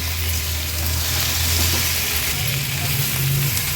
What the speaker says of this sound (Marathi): बटाटे छान ह्या फोडणीमध्ये मिक्स करून झालेत।